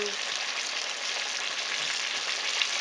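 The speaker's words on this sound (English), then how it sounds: "take it up to your skillet and just drop it in. Let that cook for about 5 to 10 minutes" Fish coated in hush puppy mix batter fries in a skillet, a dense, even, close sizzle that holds steady throughout with no talk.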